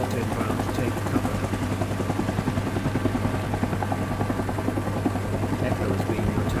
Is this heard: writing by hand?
no